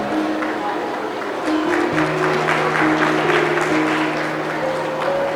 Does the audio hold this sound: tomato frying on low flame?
no